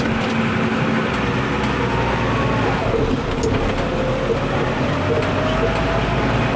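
A farm tractor drives across a field and shifts up into fourth, its road gear, with a steady, loud, continuous engine drone and rumble that stays even throughout.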